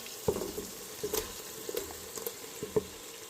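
Tomatoes tossed into hot oil in a pan for donne biryani, giving a quiet, steady sizzle broken by a few light crackles and pops, close up with no talking.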